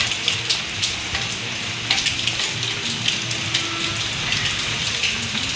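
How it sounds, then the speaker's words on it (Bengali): Heavy monsoon rain pours down outside, hard enough to flood the street, as a dense, steady hiss with fine pattering drops that stays constant, with no voices. "প্রচণ্ড মুষলধারে বৃষ্টি হচ্ছে বাইরে।"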